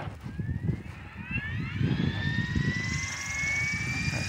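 Protos 700 RC helicopter flying overhead, a whining turbine-like rotor tone rising steadily in pitch over low rumbling noise, moderately distant and fairly faint.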